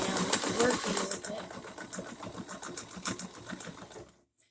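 A newly bought home sewing machine stitches a pillow, its rapid mechanical chatter running steadily with brief pauses and bursts, close and fairly loud, while a person talks over part of it before it stops.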